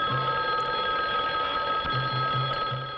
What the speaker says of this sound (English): your alarm sounds like a phone